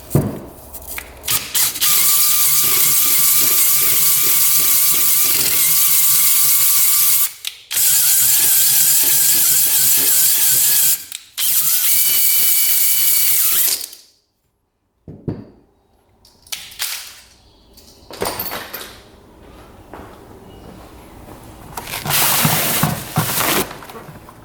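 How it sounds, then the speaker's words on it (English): A cylinder hone spinning inside a two-stroke dirt bike engine cylinder, giving a loud, steady, close-up grinding whir in long continuous bursts with short pauses, then quieter scattered clicks and rubbing. "All we have to do is hone this thing out."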